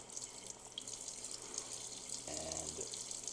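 Water runs steadily from a Moen faucet with its aerator removed, giving a continuous close splashing hiss that swells slightly partway through, with no talking.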